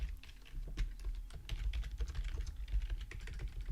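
Steady typing on a computer keyboard, with rapid close clicks of keys running without pause alone for a few seconds.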